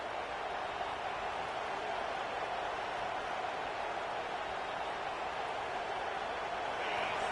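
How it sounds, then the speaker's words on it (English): A football stadium crowd roars loudly in a steady, unbroken wall of noise that holds at full volume for the whole stretch. "This crowd, full throat, splitting the eardrums and letting them know it's going to be a long day"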